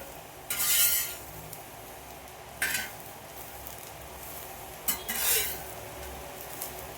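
Karchikai filling ingredients roasting in a pan for a North Karnataka village-style monsoon sweet, with three short bursts of scraping and stirring over a faint steady background.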